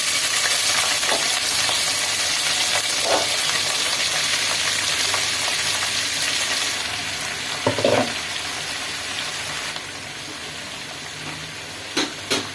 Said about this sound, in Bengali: আমি আলুটা ভালো করে ভেজে নেব এখন